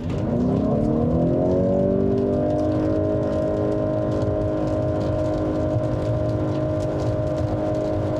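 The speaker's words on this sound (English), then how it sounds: "you're gonna be hearing some engine drone because this has a unique CVT" A 2020 Honda CR-V Hybrid AWD SUV engine with a CVT drones loudly at full throttle, its pitch rising briefly at the start and then holding a steady, sustained roar.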